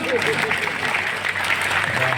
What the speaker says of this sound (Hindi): भजन समाप्त, तालियां बजाइए।